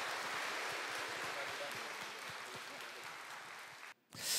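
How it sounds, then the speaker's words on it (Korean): A crowd claps steadily, loud and fairly close, then the applause cuts out abruptly near the end. "여러분 박수 부탁드리겠습니다"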